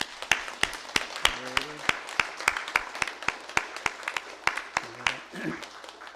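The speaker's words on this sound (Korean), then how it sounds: "우리 수험생들과 가정을 위해서 격려의 박수 보내겠습니다" Members of a Korean church congregation clap in encouragement for exam students and their families, sharp distinct claps in a fairly steady rhythm, sparse enough to pick out individual hands, with brief voices murmuring in between.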